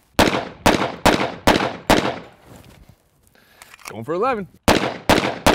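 Double Barrel 1911 pistol fired in rapid strings of loud, sharp shots, a pause with a voice speaking between volleys, then more shots resuming.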